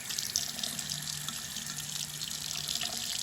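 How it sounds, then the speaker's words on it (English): Plant explants for carnivorous plant tissue culture are rinsed under a running tap, a steady close-up rush of water hitting a sink for the whole stretch, with no talk. "now all I'm going to do is I'm just going to wash these off in some water"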